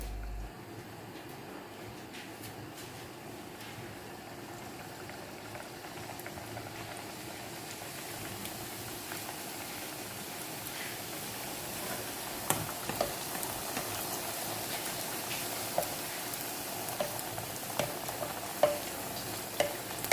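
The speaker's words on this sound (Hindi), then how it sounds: "कढ़ाई मेरी गर्म हो गई है, तो इसमें अब ये गोलगप्पे को छोड़ देंगे" Golgappa puris frying in hot oil in a kadhai, a steady dense sizzle and bubbling that grows louder and brighter partway through, with occasional sharp crackles and pops near the end and no talking.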